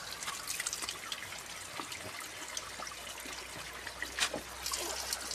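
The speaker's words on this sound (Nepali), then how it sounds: "कस्तो सफा पानी आइरहेको छ हैन।" Clean, cold spring water trickles steadily at a hillside source in Dhading during hot weather, a continuous soft splashing with small drip-like accents, fairly close and with no talking.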